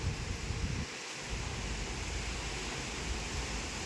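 Strong wind sweeping through trees, a continuous broad roar with gusty low buffeting against the microphone, and no voices.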